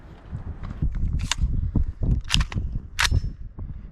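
A rifle fitted with a single-stage CMC 2.5 pound trigger fires three sharp shots a little under a second apart outdoors, each a crisp crack over low rumbling background noise.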